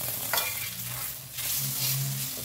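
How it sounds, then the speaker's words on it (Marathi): Onion and tomato stir-frying in oil for chicken curry, a close sizzle with brief scraping stirs, steady and moderately loud without any voices. "अशा प्रकारे आपल्याला हा कांदा तेलामध्ये परतवून घ्यायचा आहे"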